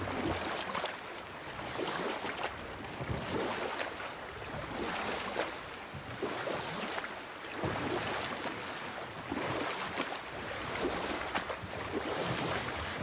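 A boat rowed across water in the God of War game, steady rhythmic oar strokes and gentle lapping water under a soft wind-like ambience, continuous and moderately quiet.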